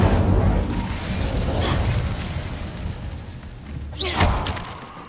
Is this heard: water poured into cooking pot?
no